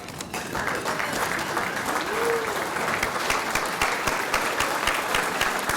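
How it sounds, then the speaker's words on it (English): Audience at the PBLA 2020 executive night applauding together, a sustained, even roar of clapping with crisp hand claps throughout and a brief whoop rising in the middle. "Let's all stand up and give the PBLA a round of applause"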